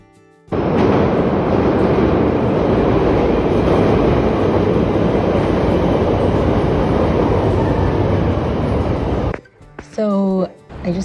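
Chicago train running: a loud, continuous roaring rumble close by for about nine seconds that cuts off abruptly, followed by brief talking at the end.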